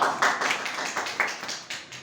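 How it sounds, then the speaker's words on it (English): Students in a classroom clap in a short, uneven burst, a handful of sharp close hand claps spaced irregularly over about two seconds. "All students, clap to her."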